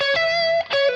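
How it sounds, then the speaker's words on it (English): Electric guitar driven through a boost pedal into the front of an amp, giving a crunchy, distorted sustained note that is briefly cut and then restruck, close and loud with no talking. "let's bring in the boost pedal. Give it a little bit more welly into the front of the amp so it sounds like this."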